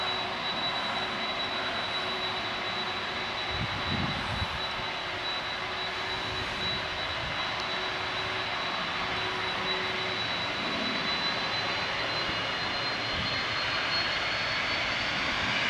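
An Emirates Boeing 777 takes off at Manchester Airport, its steady, loud jet roar holding as a broad, continuous rush through the whole stretch, with a faint whine riding above and no talk.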